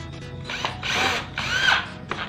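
A power drill drives a screw to fasten a replacement switch into a reversible drill, with two close, whirring bursts that rise and fall in pitch, a brief start near the end, and no talk.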